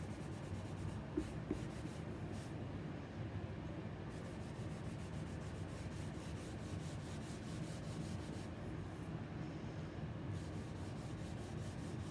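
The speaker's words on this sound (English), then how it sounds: "I'm just taking a piece of cotton and rubbing it on the surface." A cotton cloth rubs water-based stain onto a wooden mid-century bench seat, a soft steady swishing friction with faint rhythmic strokes, quiet and close, with no talk.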